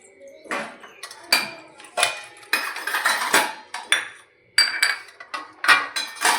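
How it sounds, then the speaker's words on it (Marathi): Kitchen pots, plates and steel utensils being stacked and set out, a busy run of loud close clanks, clinks and knocks in irregular bursts with short gaps, no talk. "ते चाललंय भांडी लावायचं काम."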